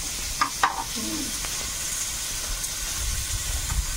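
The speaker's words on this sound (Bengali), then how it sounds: "আলুটা একটু ভেজে দেবো" Potato frying in hot oil gives a steady close sizzle and hiss, with a few brief utensil clinks near the start and a low rumble of activity underneath.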